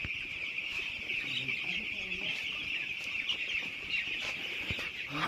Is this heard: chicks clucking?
yes